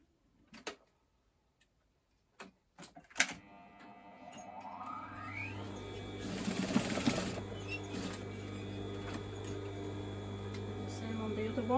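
Sewing machine stitching an overlocked hem on a pair of jumpsuit trouser legs, starting after a few clicks and handling knocks and then running as a steady whirring hum that continues to the end.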